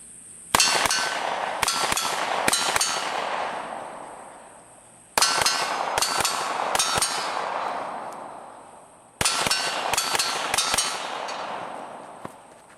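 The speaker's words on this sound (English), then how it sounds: "I'm going to engage each of these 3 targets with 2 shots as quickly as possible with each gun" Gunshots hit steel targets, including a pepper popper, at a shooting range, with three volleys of sharp cracks each followed by ringing metallic clangs, spaced a few seconds apart and loud and close.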